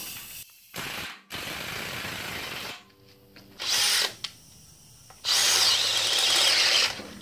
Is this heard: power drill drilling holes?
yes